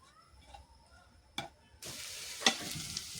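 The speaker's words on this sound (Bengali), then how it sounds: "দেখেন, এটাকে আমি এভাবেই ভেজে নিচ্ছি" Mashed chicken bharta being fried and stirred in a pan, cooked until lightly crisp: a steady oily sizzle starts partway through, with a couple of sharp utensil scrapes against the pan, fairly quiet and close.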